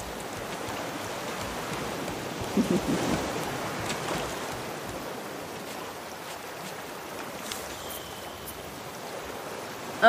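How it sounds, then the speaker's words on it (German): Steady soft rain hiss in the game Raft fills the background, fairly quiet and even, with a few faint knocks and brief tones over it. "Ach, es regnet, ist das schön."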